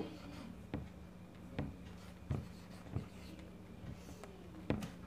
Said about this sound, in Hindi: इसको मैं हिंदी में लिख देता हूं, मृत्यु।